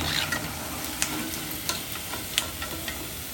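Rice-flour fritters fry in hot oil with a steady, close sizzle and a few sharp crackles and pops scattered throughout, no voices present.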